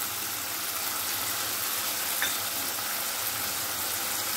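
Two small tomatoes and dried curry leaves fry in a pan for dosa chutney, giving a steady, soft hiss and crackle heard alone at close range.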